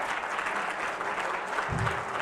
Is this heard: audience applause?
yes